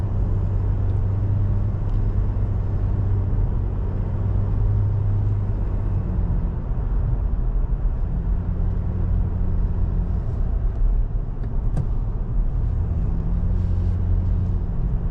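A car drives along Skyline Boulevard toward California 35, with steady engine and road rumble running through the whole stretch without a break. The low hum stays close and even, and no voices are heard over it.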